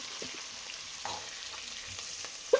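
Onions, green chillies and curry leaves frying in oil for biryani, a low steady sizzle with faint stirring taps and a brief louder clack at the end, close and without speech.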